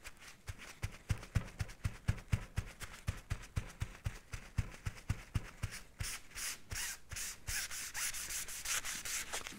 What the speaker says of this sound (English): It's more of a scrub, isn't it, really, to get it in.